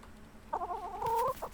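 A chicken in the survival video game Rust gives a short, close, drawn-out cluck lasting under a second, clear and alone against quiet background noise.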